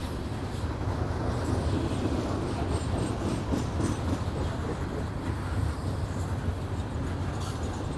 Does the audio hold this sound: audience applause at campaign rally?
no